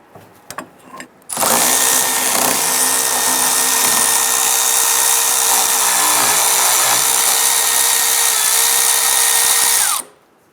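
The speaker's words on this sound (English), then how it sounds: "We're using a couple extensions with a swivel. Let's go ahead and try and loosen this one." A power tool whirs steadily for about nine seconds after a few faint clicks, loud and close, while a wheel hub bolt on a 2005-2010 Chrysler 300 is loosened through ratchet extensions and a swivel.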